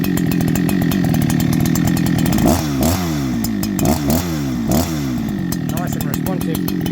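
A Holzfforma G288 two-stroke chainsaw engine, on its first start, idles close by with a buzzing, rattly sound, its pitch wavering and dipping briefly a few times before steadying.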